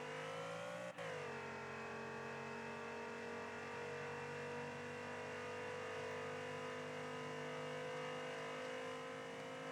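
Race car engine held at high, steady revs through a lap on a racing track during a driving academy session, a sharp pitch shift near the start then a loud continuous roar with strong harmonic whine.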